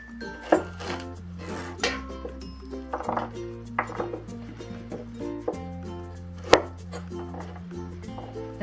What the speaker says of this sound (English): We'll trim the tops off. And you can just line them all up and take it across the top.